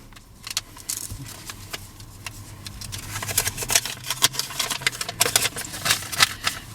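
A pack of horror humor trading cards is torn open and handled, giving a close run of sharp crinkling foil and paper rustles and snaps that grows busier and louder toward the end, with no talking.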